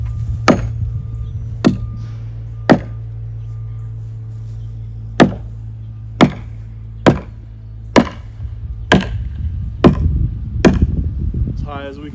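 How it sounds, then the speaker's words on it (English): A hammer strikes a wooden utility pole in a lineman's hammer test, about ten sharp, solid knocks at roughly one-second intervals over a steady low hum, with some rustling toward the end. "We knock the pole. Make sure it doesn't sound hollow."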